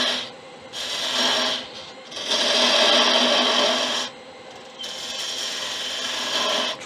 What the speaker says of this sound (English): I'm going with a small gouge. I'm just nibbling it away.